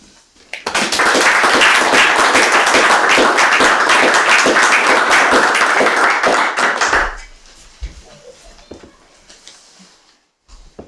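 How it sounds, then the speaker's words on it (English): Dense, loud applause from a crowd at a town selectboard meeting, steady for about six seconds before cutting off, followed by quiet room noise. "we all thank him with a round of applause for his efforts"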